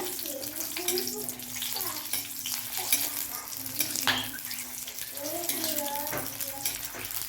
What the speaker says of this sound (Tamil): இந்த ஆயிலில் வதக்கிக்கோங்க